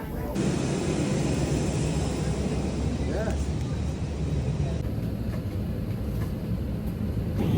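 Airplane cabin noise during flight before landing is a steady, loud broadband roar that holds throughout, with a faint tone near the middle and no clear speech.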